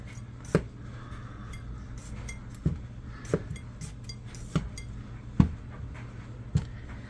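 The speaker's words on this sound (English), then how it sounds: "So stab your potato." Sharp clicks and taps of a fork stabbing potatoes against a dish or plate, repeated about every second in a steady series, close by with a faint background hum.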